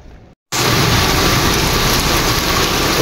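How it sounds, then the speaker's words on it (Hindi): Sudden heavy rain bursts on after a brief silence, a loud, dense, steady roar of downpour in a stormy spell that continues unbroken to the end. "भाई भागो भागो भागो, बारिश शुरू हो गई"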